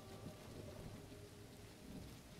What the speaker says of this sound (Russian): Почему здесь дождь идет, а там солнце светит?